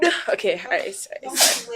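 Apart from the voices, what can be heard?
sneeze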